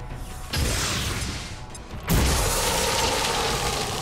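A frag grenade detonates in XCOM 2: a whooshing lead-in, then a loud, close boom with crashing debris that rolls on as a broad roar.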